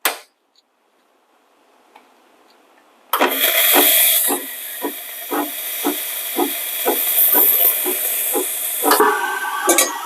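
The steam wand on an Ascaso Steel Duo PID espresso machine is purged: after near silence, a loud, close burst of hissing steam erupts and keeps going, broken by a steady series of rhythmic sputtering pulses.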